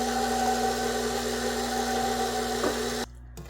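A stand mixer runs in first gear, beating pound cake batter, a steady motor hum with tonal whine that continues evenly and then cuts off abruptly near the end.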